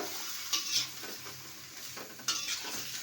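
Sliced new potatoes and flat beans are sautéed in a pan. A soft steady sizzle runs under two sharp bursts of a utensil scraping and clinking against the pan as they are stirred.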